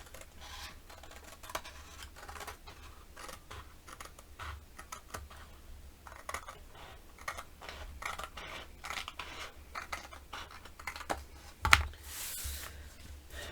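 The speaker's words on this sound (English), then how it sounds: "I drew a line with my white chalk marker, and then I'm simply going to cut that out" Scissors snip paper along a white chalk-marker line in a quiet craft setting, soft repeated cutting sounds with small rustles and one sharper click near the end.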